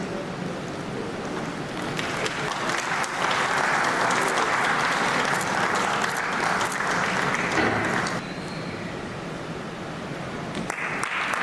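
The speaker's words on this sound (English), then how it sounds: "Big round of applause." Sustained applause from an audience at the inauguration of an international bonsai and suiseki gathering, steady clapping that swells louder midway, then eases back slightly while continuing to the end.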